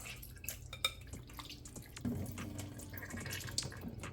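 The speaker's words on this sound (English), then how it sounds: "Just squeeze the chicken out, get that excess water out of it." Water dripping and trickling into a sink as raw chicken is squeezed to drain excess water, faint scattered drips and splashes with a small burst of running liquid partway through, no talk.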